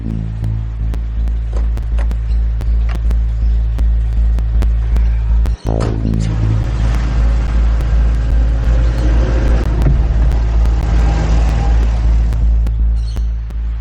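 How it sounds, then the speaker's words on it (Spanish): A car drives off, its engine a steady low rumble that builds with a brief revving surge partway through, close and loud throughout with no talking. "vuelve al coche y se marcha con Sally."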